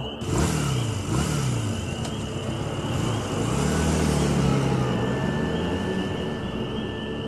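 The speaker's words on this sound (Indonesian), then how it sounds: "aku pun berpamitan pada sopir travel itu dan langsung menancap gas motorku" A motorcycle engine revs up and accelerates as a radio drama sound effect, a loud rising and falling engine note with repeated throttle surges, steady and close throughout with no voices.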